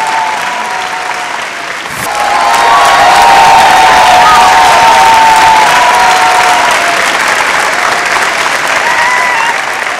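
A television dance competition audience breaks into loud applause and cheering for a contestant, rising suddenly after a brief pause and holding as a dense, sustained roar of clapping and shouts.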